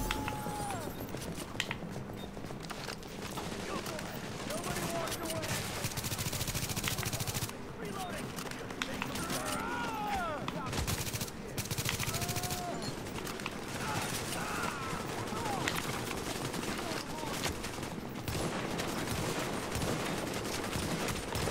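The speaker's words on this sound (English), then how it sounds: "I just had to take 6 freaking shots with my sniper rifle into a guy." Sniper rifle fire in the video game The Division, open beta: sharp shots crack repeatedly over a dense, constant wash of battle noise, with voices heard intermittently.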